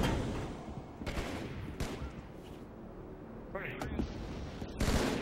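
Sniper gunfire in a multiplayer video game session, several sharp loud shots cracking over a constant dense din of game noise.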